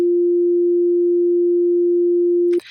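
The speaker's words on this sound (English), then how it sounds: "So I'm going to produce a sine wave." Pure sine-wave test tone, played identically on left and right stereo channels, holds one steady, loud, unwavering pitch for about two and a half seconds before cutting off abruptly.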